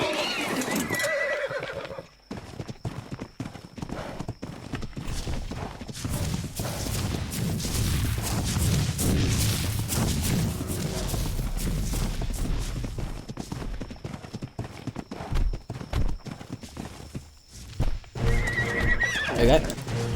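Horse neighing and clip-clopping hooves in the game Ark Survival Evolved, loud and close, with repeated whinnies and steady hoofbeats running through most of the stretch, a voice speaking at times.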